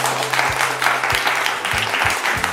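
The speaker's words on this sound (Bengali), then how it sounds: "আমরা কি একটা হাততালি পেতে পারি আগে সকলের কাছ থেকে?" Audience applause at a jewellery store anniversary event, steady dense clapping from a crowd filling the whole stretch, fairly loud and close with no voices over it.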